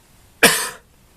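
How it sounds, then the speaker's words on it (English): One person gives a single harsh, breathy cough at close range, short and isolated, with no talking around it. "I am just going to cough again."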